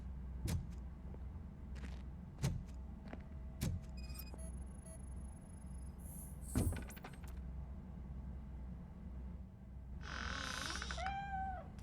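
Meowing cat in the RoboCop: Rogue City video game, a short rising-and-falling cry near the end, following scattered clicks and thumps over a steady low hum.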